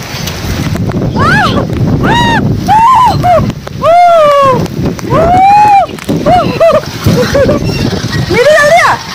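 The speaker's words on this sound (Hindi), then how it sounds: "और बारिश अचानक से आ गई बहुत तेज बारिश" Heavy rain pours onto a rooftop as wind gusts across the microphone, a dense, loud, steady wash of noise while someone talks excitedly over it almost the whole time.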